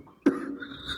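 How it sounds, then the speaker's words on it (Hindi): A single sharp cough from a teacher during a Class 10 science lecture, one close, abrupt burst followed by a brief fading tail in an otherwise quiet room. "खांसी हुआ है"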